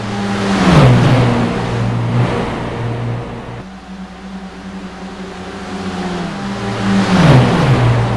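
Race car in the iRacing simulation at Daytona pulls out of pit road, its loud engine droning and revving up through gear changes, pitch climbing and dropping twice, with no talk over it.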